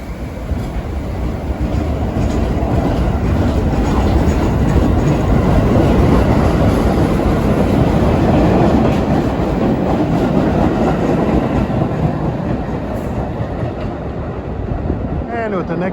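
A Staten Island Railway train rolls through a station during evening rush hour, making a loud, continuous rumble with rattling wheels and clatter that holds steady for the whole stretch.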